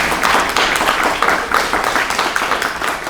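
Steady applause from an audience after a talk on exoplanets, a dense, continuous wash of clapping hands that holds at a fairly loud level throughout with no voices standing out.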